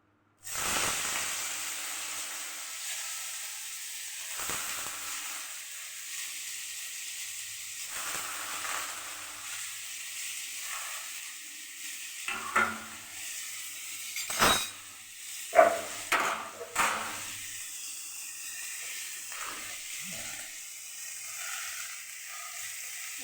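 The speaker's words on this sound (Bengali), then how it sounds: "এবার তেল দিয়ে দিই আলু ভাজা।" Potatoes fry in hot oil in a wok, a steady loud sizzle running throughout with a few sharp clinks and scrapes of a utensil in the latter half.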